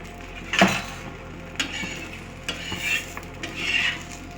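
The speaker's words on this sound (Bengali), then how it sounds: "এই বাটারের উপরেই এই যে ময়দাটা বেলা ছিল সেটা আমি দিয়ে দিচ্ছি।" Naan dough is laid onto butter on a hot tawa, with a few sharp utensil clicks and scrapes over a soft, steady frying sizzle, close by and without speech.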